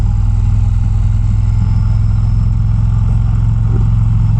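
A big motorcycle engine runs loud and close, a steady low drone with no clear revving as the bike makes a turn.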